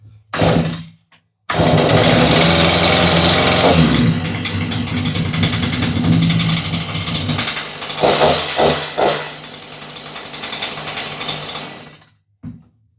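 A STIHL chainsaw is pull-started: after a couple of short rasping pulls it catches and runs loud and close for about ten seconds with throttle blips, then cuts out, followed by a single brief knock.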